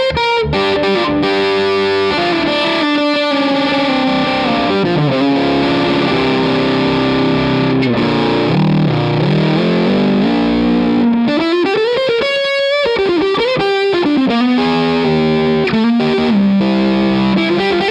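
A Les Paul electric guitar played through a 29 Pedals FLWR fuzz distortion pedal into an amp, with sustained notes and sliding bends over a thick, buzzing tone.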